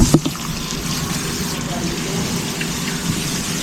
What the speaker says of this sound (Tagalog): watering bonsai